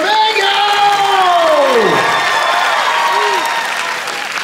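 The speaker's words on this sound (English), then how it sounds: "So, can I get a warm round of applause for Mango?" Crowd applause and cheering for a dancer at a furry dance competition, loud clapping mixed with whoops and a sliding vocal cry, sustained throughout with voices calling over it.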